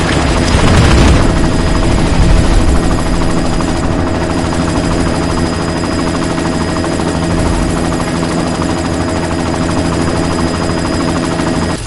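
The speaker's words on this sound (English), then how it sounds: "You've got to stop that chopper." Helicopter in the game Deus Ex: Mankind Divided, a loud, close, continuous rotor thrum and engine drone filling the whole stretch with a steady rhythmic chop.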